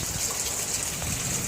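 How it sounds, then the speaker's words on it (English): Light rain falls outdoors during a flood in Katy, Texas, a soft, even and continuous hiss of drops with no voices. "the rain has lightened up"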